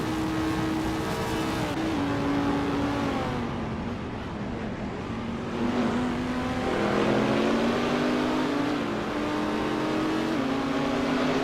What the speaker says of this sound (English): The gap between Blackbeard and Agreds 34 is narrowing as they race through the next corner.